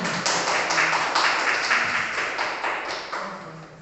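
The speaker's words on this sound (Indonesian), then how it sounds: "berikan tepuk tangan yang sangat meriah kepada Bu Intan" Applause for a woman named Intan, a teacher candidate, at an Indonesian school gathering: dense, steady clapping from a group, loud and close, holding level before easing off slightly near the end.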